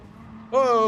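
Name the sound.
race car driving and braking in Gran Turismo Sport video game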